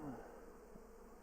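Faint buzzing of honey bees hovering close by at a hive entrance, a soft continuous hum with no voices.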